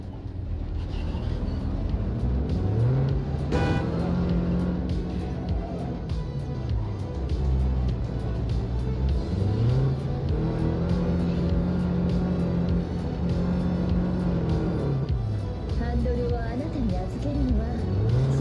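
A car in a racing video game drives and revs continuously, the engine pitch rising and falling in repeated sweeps as it accelerates and shifts, loud and steady throughout with no pauses.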